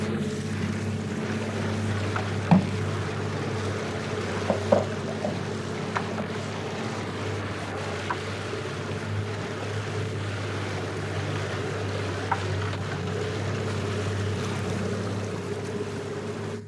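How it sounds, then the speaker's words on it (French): A small boat's motor runs steadily on the water, a low continuous drone with faint splashes and occasional light knocks throughout, no talk. "je vais juste mettre le bateau en marche et on va tester"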